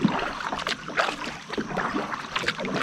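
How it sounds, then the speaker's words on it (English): Kayak paddle strokes and water sloshing on an early-morning trip upriver, a steady series of near splashes repeating about every half second over a soft wash of moving water and light wind. "Paddling upriver right now."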